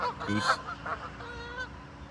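Geese honk outdoors near tidal water in New England during a possible turf battle, a few loud nasal calls early and fainter honks trailing off afterward.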